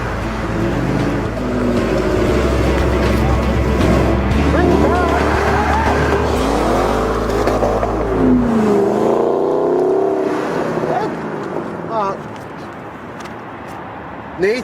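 A Ford Mustang Shelby GT engine roars up close with revving swells and a brief tire squeal, while voices talk over it before the engine note fades toward the end.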